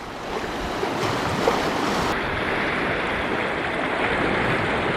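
Steady, loud rush of the East Fork of the Sevier River flowing, a continuous broadband roar with some wind buffeting on the microphone.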